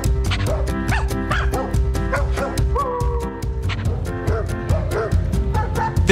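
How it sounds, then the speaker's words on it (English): A one-year-old shepherd-mix rescue pup from Hurricane Harvey gives repeated short barks and yips, close and fairly loud, over a steady musical background. "He is a 1-year-old shepherd mix, Hurricane Harvey rescue pup"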